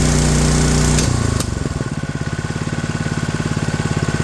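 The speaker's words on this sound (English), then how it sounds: "It's just the Honda GX200, the little motor running the air compressor" A Honda GX200 small single-cylinder engine drives an air compressor, steady close-up chugging that shifts pitch around the one-second mark as it settles into a rapid, even idle pulse, with no talking.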